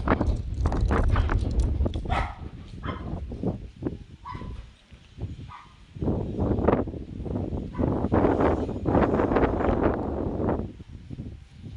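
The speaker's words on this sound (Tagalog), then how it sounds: "baka medyo maingay itong video ko guys dahil sa hangin" Gusty wind buffeting a microphone during an outdoor walk through a residential subdivision, a loud low rumble that swells and dips throughout, with scattered footsteps and clatter.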